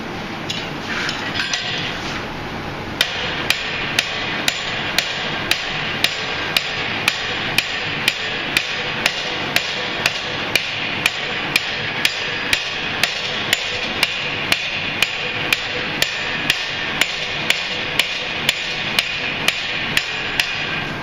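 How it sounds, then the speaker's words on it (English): A forged bottle opener is struck on an anvil to straighten it, with steady, evenly spaced sharp metallic hammer blows ringing out loud and close for a long run, after a brief quieter start. "that should be mended by placing it on the anvil and just kind of reestablishing the trueness"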